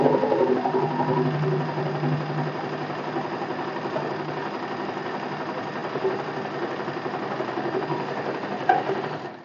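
Domestic sewing machine stitching a blouse seam along the seam allowance, a steady close mechanical whir running continuously throughout with no talking.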